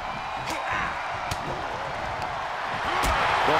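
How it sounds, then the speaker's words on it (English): Arena crowd noise from a WWE 2K22 wrestling match, a broad roaring wash with scattered thuds and impacts, building slightly louder toward the end. "The sound of this crowd is deafening, and he's asking for more."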